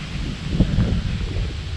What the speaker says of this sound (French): il y a ce vent qui ne cesse de souffler depuis que je suis arrivé